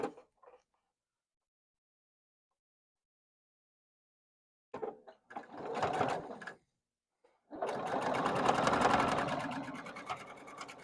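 A sewing machine stitches a quilt block in two runs, a short burst followed by a longer, steady whirring pass, with near, fairly loud motor hum and needle chatter between quiet pauses.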